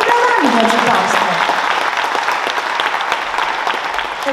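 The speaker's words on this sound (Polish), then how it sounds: "Powitajmy go oczywiście jeszcze bardziej hucznymi brawami" Audience applause at a Social Worker's Day gathering in Olsztyn, Warmia and Masuria: steady clapping from a crowd that fades slightly, with an announcer talking over it.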